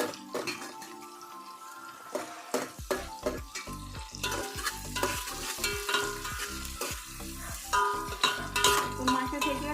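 Chopped tomatoes fry in hot oil in a pan, hissing and sizzling loudly while a spatula scrapes and knocks against the metal in quick, uneven strokes throughout.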